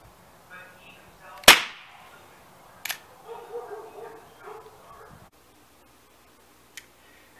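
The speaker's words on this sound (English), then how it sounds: "I loaded it again and fired the tool, and it went off, and I overdrove the fastener quite a bit" A Ramset 7200 powder-actuated tool using caseless ammo fires with one sharp, loud close bang, followed by fainter clicks and handling noises and a brief murmur of voice.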